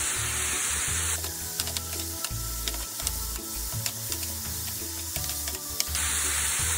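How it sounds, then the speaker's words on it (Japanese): Daikon radish stir-fries over high heat, giving a loud, continuous close sizzle with bursts of steam hiss and scraping from a wooden spatula. "火は強火で一気に炒めていきます"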